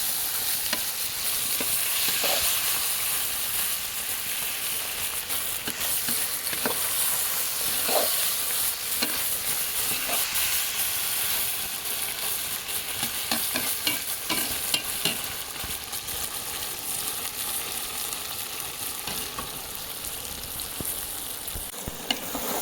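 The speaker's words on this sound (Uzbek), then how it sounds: "Va hammasini birgalikda qovurib tashlaymiz endi." Potatoes, onions, tomatoes and bell peppers frying together with beef heart in a cauldron, with steady, loud sizzling throughout and the scrape of stirring recurring at irregular intervals.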